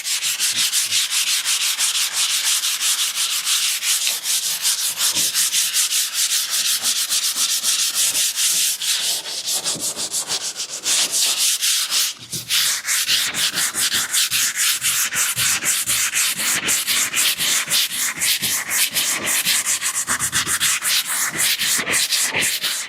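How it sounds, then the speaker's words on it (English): Sandpaper of 220 grit is rubbed over a century-old wooden French farmhouse table in a light sanding pass, with a continuous close, scratchy back-and-forth rasp and quick repeated strokes that dip briefly midway. "we're just going to do a light sand"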